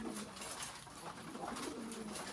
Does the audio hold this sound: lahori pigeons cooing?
yes